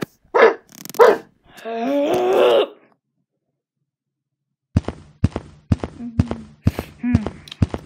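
A dog in a stop-motion scene gives a pair of sharp barks, then a long low growl, followed after a pause by a rapid run of close, loud barks.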